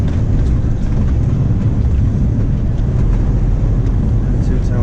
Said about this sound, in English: lots of traffic down this way